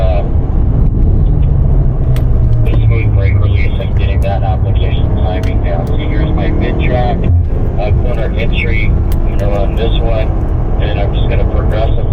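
A car engine at full throttle on a straightaway drones loudly and continuously, with someone talking over it throughout.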